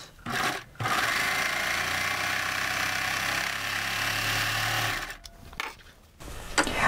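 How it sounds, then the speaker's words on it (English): A serger sewing machine stitches a fabric seam for an improvised quilt storage bag, its steady mechanical whir running for about four seconds with short pauses at the start and end. "I just want to sew so that I'm coming at a 90-degree angle to that seam."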